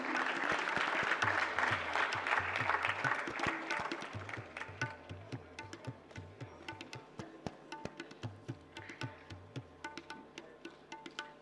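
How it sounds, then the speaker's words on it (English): Conference audience at an intellectual property event breaks into loud, dense applause that gradually thins and fades over about eleven seconds, with scattered individual claps lingering near the end. "I want you all to give a huge round of applause to him."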